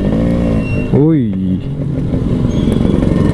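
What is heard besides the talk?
Yamaha RX135 motorcycle exhaust revving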